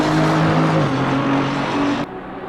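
GT3 race cars at the Nürburgring in the Assetto Corsa Competizione sim game roar down a straight, a loud sustained engine drone with shifting pitch that drops off sharply near the end, with no voices.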